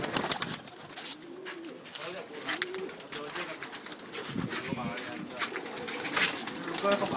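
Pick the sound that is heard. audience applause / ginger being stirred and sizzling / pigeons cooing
pigeons cooing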